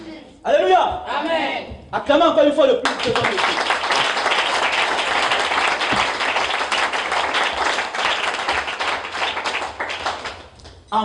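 Church congregation applauding and acclaiming God during a French-language Christian service, a steady dense wash of clapping lasting several seconds after brief voices at the start.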